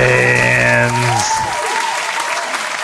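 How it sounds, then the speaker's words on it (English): A studio audience claps for a returning show guest, the applause emerging from a brief sustained musical tone and then carrying on as a dense, even wash of clapping close by. "Oh, it's nice to hear that applause."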